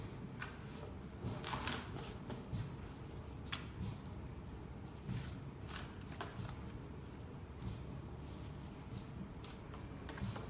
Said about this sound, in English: The big deck that I can't shuffle very well.